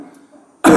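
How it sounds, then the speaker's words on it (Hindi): A single short, loud cough bursts out right at the end during a yoga breathing exercise, after a quiet low room hum. "एक ऐसे खांसो, 4-5 बार खांस के दिखाओ"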